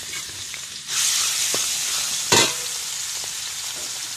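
Pork goes into a hot pan for fried rice with a surge of loud, sustained sizzling, stirred with occasional sharp scrapes and knocks as it fries steadily.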